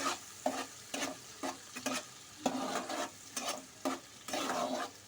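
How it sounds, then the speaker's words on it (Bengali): Garlic paste stir-fried in a pan over a medium flame, a soft sizzle broken by repeated scraping strokes of a spatula at a steady rhythm, quiet and close, with no talking. "ফ্লেমটা মিডিয়ামে রেখেই কিন্তু রসুন বাটাটাকে একটু কষিয়ে নিতে হবে"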